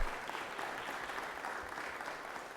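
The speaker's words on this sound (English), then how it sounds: "Rise, everybody, and clap for these wonderful young ladies." Members of the Georgia Senate stand and clap for young lady visitors in the chamber, a steady, moderately distant round of applause from many hands filling the whole moment.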